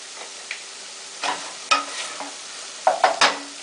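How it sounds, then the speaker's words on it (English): Garlic cooking in a pan over a gas flame, with soft frying hiss broken by several sharp stirring scrapes and clinks close by. "You can smell the garlic starting to cook in there."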